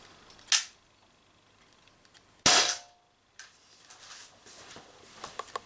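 Two sharp shots from an Umarex TP50 air pistol firing steel balls, spaced about two seconds apart, each a crisp close snap with a quick decay, followed by light handling clicks.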